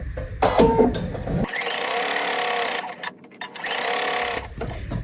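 A sewing machine stitches fabric for a polymer clay head pincushion doll, running in two close, steady whirring bursts with a brief pause between them, preceded by a moment of handling noise.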